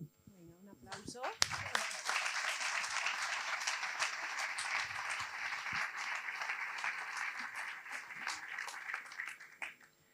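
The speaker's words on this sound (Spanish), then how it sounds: "Un aplauso." A lecture audience breaks into sustained applause after a talk on coronary disease, steady many-handed clapping building quickly and holding for about ten seconds before tapering off, heard at moderate distance in a hall.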